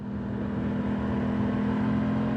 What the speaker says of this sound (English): Love the sound of the engine.